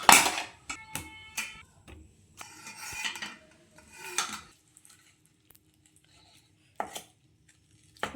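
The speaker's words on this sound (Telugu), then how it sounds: "అరటి ముక్కలు అన్నిటిని కూడా ఇట్లా క్రష్ చేసేసుకోవాలి మెత్తగా." Boiled green plantain pieces being mashed in a bowl, giving scattered soft squishing and scraping thuds in short bursts, close and fairly quiet, with pauses between.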